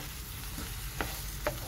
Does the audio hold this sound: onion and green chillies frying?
yes